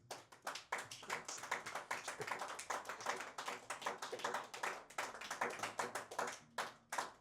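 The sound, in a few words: congregation applauding and acclaiming the Lord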